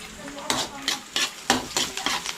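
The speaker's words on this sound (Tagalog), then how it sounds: "Igisa natin yung sardinas." Sardines sautéing in a hot pan, a soft sizzle under repeated sharp scrapes and clinks of a utensil stirring against the pan in an uneven rhythm, close and alone.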